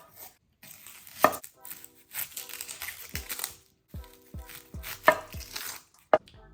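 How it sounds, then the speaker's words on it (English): Vegetables for a slow-cooker corn chowder chopped on a cutting board, with irregular close knife strikes in bursts, some sharp and loud, separated by brief pauses. "as I cut up these ingredients, these vegetables, I'm just going to dump them into that crock pot"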